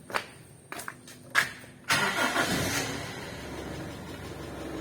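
A 1996 Toyota Kijang Super is started after a few faint clicks and knocks. The engine cranks and catches with a sudden rise, then settles into a steady, fairly quiet run.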